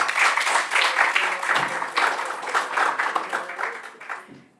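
Sustained applause from an audience at the opening of an academic art-history conference, a dense wash of many hands clapping at steady loudness, fading slightly toward the end.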